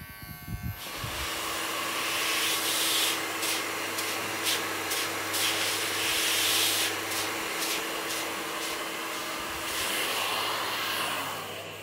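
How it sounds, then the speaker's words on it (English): A steady, loud whooshing hum of a blow dryer drying hair after a flattop haircut runs continuously, with a brief start at the beginning and slight rubbing textures over it. "Make sure you set your blow dryer to minimum heat or medium heat"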